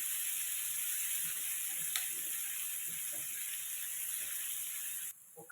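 Curry leaves sizzling in hot oil in a pan with amaranth leaves and potato fry, a steady, dense hiss that runs unbroken and then cuts off abruptly near the end.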